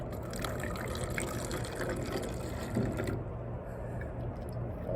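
Apple cider vinegar pours into a bottle with a steady, close liquid trickle and fill for a few seconds, mixed with light clinks of handling.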